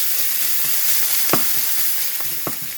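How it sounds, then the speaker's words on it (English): Four slices of chopped bacon fry in a preheated pan, a steady broadband sizzle running throughout with a few sharper pops and scrapes of stirring, close and fairly loud, no voices. "I've got my my pan preheated, and we have 4 slices of bacon chopped up. We just need to cook this until it's crisp."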